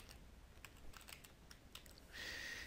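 Typing on a computer keyboard while entering registration details, a quick run of light clicking keystrokes that ends in a brighter, steady sound near the close.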